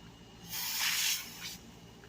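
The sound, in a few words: spraying cleaner on brake fluid spill, Dodge Charger caliper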